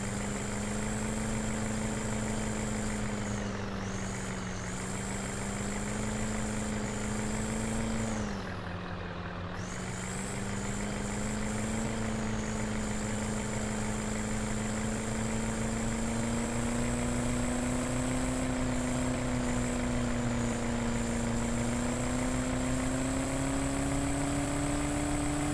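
Steady engine drone of a Ford F350 8x8 truck driving in Farming Simulator 2015, a continuous loud mid-pitched hum with slight pitch shifts and a brief dip around nine seconds, no talking.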